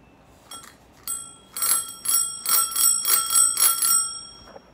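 A bell on a road bike rings in a run of bright, repeated dings, a couple of isolated strikes followed by a rhythmic burst of rapid rings, close and clear with no talking.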